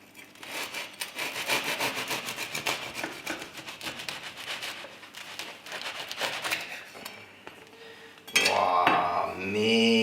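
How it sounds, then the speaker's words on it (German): A knife saws back and forth through a crusty homemade no-knead bread loaf, close raspy strokes crackling against the crust, followed near the end by a louder clatter of handling. "jetzt wollen wir das mal gemeinsam anschneiden und ich bin gespannt, wie das Brot im Inneren aussieht"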